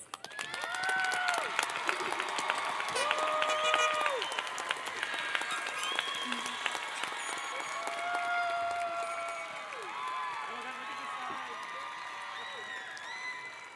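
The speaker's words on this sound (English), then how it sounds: "We'll take a moment to have a round of applause for our honor graduates." Applause for honor graduates at the Rome High School 2021 commencement: sustained crowd clapping with a few cheers, in a large reverberant space, while voices talk over it and tonal sounds weave through.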